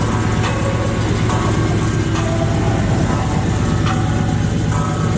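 Supercharged Cutlass engine idling with the windows open, a loud, continuous low rumble that stays even throughout, with faint tonal sounds mixed in underneath.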